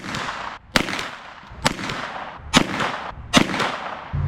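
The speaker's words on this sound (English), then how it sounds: "All right, 5-shot group out of an MP5 clone." An MP5 clone with a barrel just under 9 inches fires sharp, loud gunshots in a steady, unhurried string outdoors, with short quiet gaps between them and no talking.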